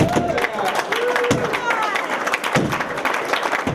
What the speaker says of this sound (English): Chaminade Julienne staff, students, and supporters cheer as school leaders make room for the new CJ STEMM Center